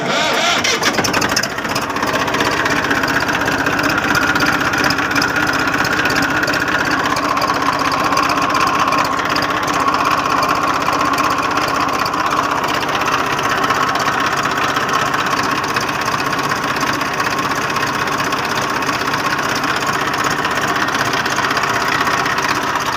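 An Eicher 480 truck engine fitted with a hydraulic body cranks and catches. It then settles into a loud, steady, rumbling idle that carries on without a break.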